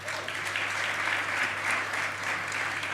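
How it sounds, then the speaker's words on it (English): An audience at a startup conference panel in Zagreb applauds its guests, a dense, steady clapping from a sizeable crowd that carries evenly throughout without voices. "One applause for our guests, please."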